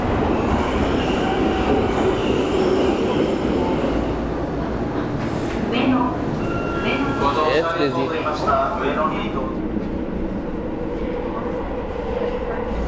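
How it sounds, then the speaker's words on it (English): A Japanese train rumbles through a busy station with clattering wheels and faint squeals, while people talk nearby over the steady mechanical noise. "Japanese trains are very quiet."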